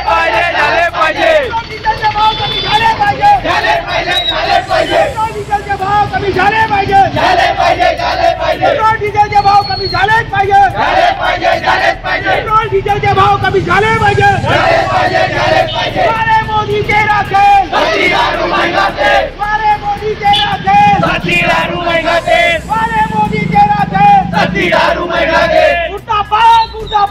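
A crowd of Congress protesters in Nagpur loudly chants anti-Modi government slogans over rising petrol, diesel and cooking gas prices, a dense, continuous roar of rhythmic shouted voices with babble throughout.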